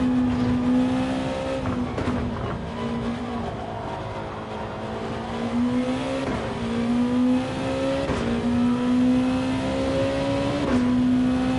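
Racing car engine in a racing video game, repeatedly revving up through the gears with rising whines and quick drops at each shift, loud and close for the whole stretch with no talking.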